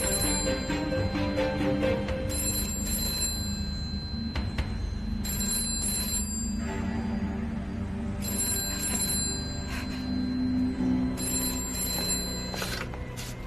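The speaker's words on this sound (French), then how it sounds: "Le téléphone." An indoor telephone rings in repeated bright bursts with short gaps, clear and close over a quiet room, with no talk.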